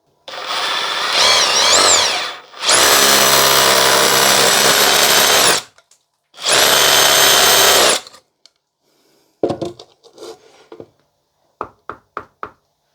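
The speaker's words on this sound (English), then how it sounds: "once I start drilling the hole, as soon as I get up to the tape, I know I'm deep enough" A power drill bores a hole for a wall plug in a workshop, with a short whine followed by two long, loud sustained drilling bursts, then a few sharp knocks and taps as the work finishes.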